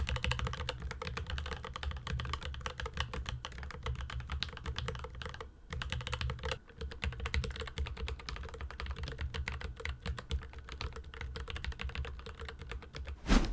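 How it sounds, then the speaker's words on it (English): Continuous typing on a keyboard fitted with Gateron linear switches in nylon housings, factory lubricated, giving a deep, bassy, ping-free clack; a steady close-up stream of keystrokes with no pauses beyond one brief lull. "the nylon housing, combined with factory lubrication, eliminates ping and makes this switch sound more bassy than similar alternatives"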